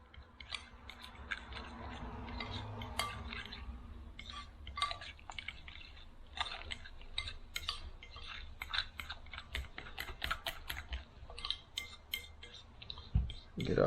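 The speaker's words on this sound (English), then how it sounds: "We're going to mix this all in here together." Keto ube roll cake batter being mixed in a bowl, with wet, sticky stirring and scraping strokes in a busy irregular rhythm, close up and fairly quiet, with no voices.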